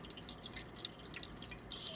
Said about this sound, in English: Strain all the junk that is in the wax inside the cheesecloth